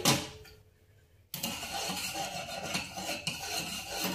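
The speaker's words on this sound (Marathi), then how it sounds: "हे दोन्ही पण मीठ आपण चांगलं विरघळूया" A spoon stirs salt to dissolve it, starting with a brief clink, then after a short pause a steady, fairly close scraping and clattering that keeps going to the end.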